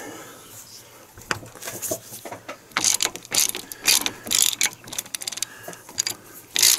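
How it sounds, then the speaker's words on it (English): A half-inch ratchet turning a deep well socket while replacing an engine coolant temperature sensor, giving close, crisp bursts of rapid clicking in irregular runs separated by short pauses. "I'm going to use a 1/2 inch ratchet, and it's a deep well socket, so we can get it down on there"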